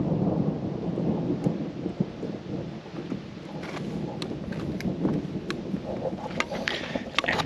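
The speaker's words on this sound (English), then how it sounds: "that's the one thing you don't want to hear if you're on top of a mountain in a foreign country is thunder" Thunder rumbles over a mountain in Italy during a hike: a deep, rolling, continuous roar with a patter of rain and occasional sharper crackles.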